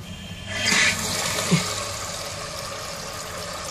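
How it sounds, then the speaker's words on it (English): Water rushing into the tank of a 1944 Eljer Waco toilet, a steady hissing fill that surges after a moment, with a small clunk midway, continuing evenly and close by without any voices. "now I'm gonna get ready to fill up the tank"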